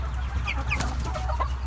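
Heritage dual-purpose meat chickens, hens and roosters raised for free ranging, cluck in several short, close calls over a steady low farmyard hum.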